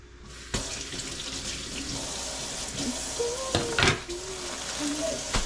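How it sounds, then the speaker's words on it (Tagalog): Enoki mushrooms being rinsed under a running kitchen tap, a steady close splash and hiss of flowing water into a sink with occasional clunks of handling and a faint voice in the background. "Hugasan lang, chap-chapin. Ang enoki."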